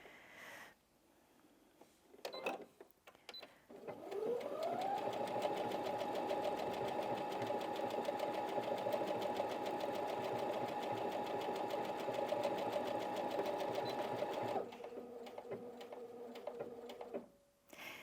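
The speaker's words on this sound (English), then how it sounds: "it will carry on sewing until it finishes the end of the pattern" A Brother Inventio NV1850Q sewing machine stitches a decorative row of hearts, a continuous whirring hum with rhythmic mechanical chatter lasting about ten seconds, close and steady, then winding down into quieter clicks.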